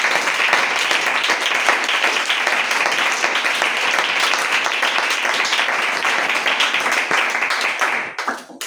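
A church congregation applauds loudly for the Lord, dense sustained clapping for about eight seconds before it thins out and stops.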